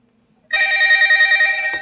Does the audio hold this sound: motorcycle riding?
no